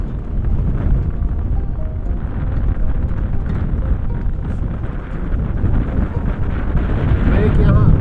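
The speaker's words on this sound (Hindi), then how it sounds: "काफ़ी तेज़ हवा चल रही है" Strong wind roars during a New York snow storm, a dense continuous buffeting rush loud against the microphone for the whole stretch, with a voice faintly present beneath.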